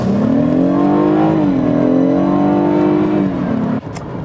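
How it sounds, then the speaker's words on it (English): A BMW X3 engine, the same unit used in the 328i, revs loudly and steadily with a smooth rising drone that dips briefly, climbs again, then cuts off abruptly near the end. "when you hear what this engine sounds like without it, you almost prefer it"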